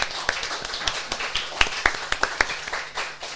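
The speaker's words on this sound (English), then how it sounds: "let's give Sarah a massive round of applause as well for her mindset" A small audience clapping for a guest at a mental health talk, a sparse, uneven patter of individual claps close by rather than a full roar.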